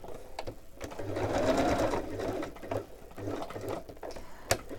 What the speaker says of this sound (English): I almost can't reach my sewing machine.